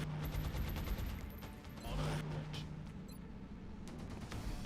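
Heavy gunfire in the XCOM Long War strategy game, a rapid volley of sharp cracks and bursts, loud and close, with no talk over it.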